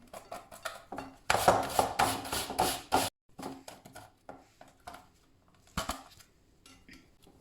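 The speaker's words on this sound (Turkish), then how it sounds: "Şimdi bir de elmamızı rendeleyelim." An apple being grated for a beetroot and pomegranate salad, producing bursts of rhythmic rasping scrapes, loudest in a steady run near the start, then scattered quieter strokes and pauses.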